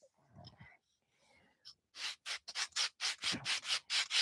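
Sandpaper scrubs the inside of a thin model fuselage in quick, close, rhythmic back-and-forth strokes, loud and raspy, after a few soft whispered words.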